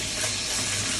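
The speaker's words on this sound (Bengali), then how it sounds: "এই যে আমার মাছ ভাজাটা শেষ হয়ে গেছে।" Rohu fish pieces fry in hot oil in a home kitchen, giving a steady, close, dense sizzle that continues without pause and with no voices.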